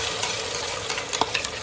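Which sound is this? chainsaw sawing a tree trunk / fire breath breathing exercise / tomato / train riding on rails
tomato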